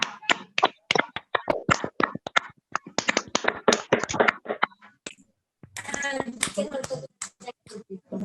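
An audience at a personality development workshop claps fast and enthusiastically in two dense bursts of crisp, close hand claps, separated by a brief pause.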